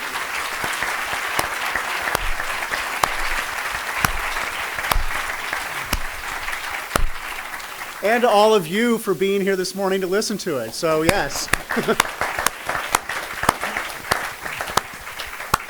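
Audience applause at a science teach-in, a steady crowd clapping that runs throughout, with someone speaking over it partway through while the clapping continues.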